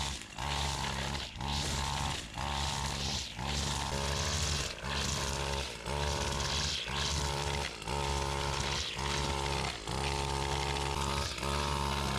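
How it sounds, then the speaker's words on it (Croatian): A grass trimmer cuts grass along a village path to a house. Its engine drones loud and steady at close range, with brief regular dips every second or so as it sweeps back and forth. "idem sada malo kosim travu put do kuće"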